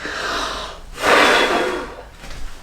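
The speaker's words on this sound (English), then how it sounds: "the next way is to blow it as hard as you can so it flows off" A child blows out a long, hard breath during a breathing exercise for kids, a loud close rush of air after a softer breathy stretch, with no talking.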